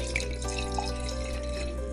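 Liquid poured into a glass in a Plotagon animation, a steady watery trickle and splash heard alone over a low hum.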